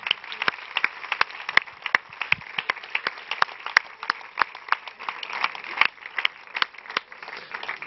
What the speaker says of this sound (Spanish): Fuerte aplauso para Miguel Lago, mejor cómico del año en Paramount Comedy